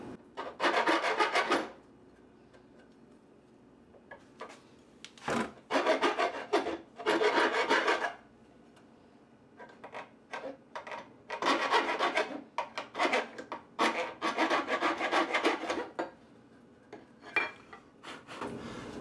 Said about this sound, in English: with it screwed to the wood, it's probably the easiest way to file it.